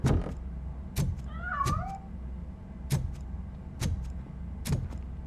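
A cat meows once, a clear wavering cry, in the RoboCop: Rogue City video game, set among sharp periodic clanks and thuds and a low background rumble.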